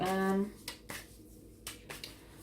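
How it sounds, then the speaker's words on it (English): Tarot cards being shuffled by hand produce a few soft, separate riffling snaps and slaps, spaced irregularly after a brief voiced sound at the start, close and fairly quiet. "as I shuffle the cards"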